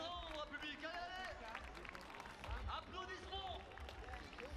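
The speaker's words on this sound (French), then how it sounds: "Applaudissements." Spectators applaud and cheer at the finish line of a running race, the Bicentenaire, with dense clapping and crowd noise mixed with an announcer's voice and shouts throughout.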